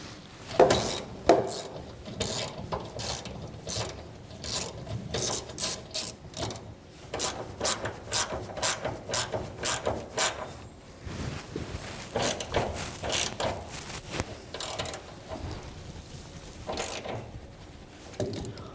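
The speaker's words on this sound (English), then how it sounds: "So I got a 17mm socket here. We're gonna get this snug up in here." A ratchet with a 17mm socket tightens a nut on a truck's rear suspension, producing repeated close clicking strokes in quick bursts with short pauses and some rubbing metal handling.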